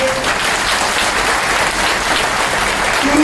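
A crowd at a BJP rally in Taranagar claps loudly to welcome former opposition leader Rajendra Rathore, a thick, sustained roll of applause holding steady throughout.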